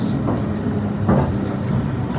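An old passenger train pulls into Broadmeadow station, heard from on board as a steady, loud low rumble with faint rail clatter and no talking.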